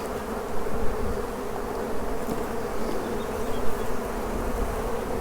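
Honey bees swarm around an open hive frame of brood and pollen, producing a dense, steady, close buzzing drone with no voices.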